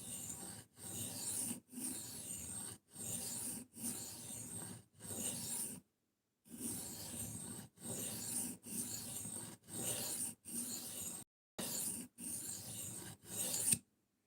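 Knife blade drawn across a 120 grit sharpening stone in even, rhythmic strokes, about a dozen raspy scrapes with brief pauses between, close and quiet.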